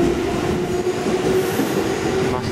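JR 211 series electric train bound for Atami pulling into a platform at Shizuoka station, a loud steady rolling rumble with a faint squeal near the end, no talk over it.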